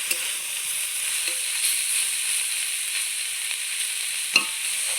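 Chopped banana stem and potatoes frying in oil with onions, a steady bright sizzle running throughout, with faint stirring scrapes and one sharp clink near the end; no talking.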